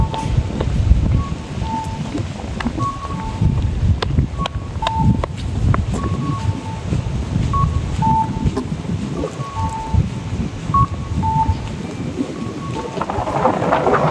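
Strong cold wind buffeting a microphone outdoors in Japan: loud, gusty low rumbling throughout, with faint tonal beeps in the background.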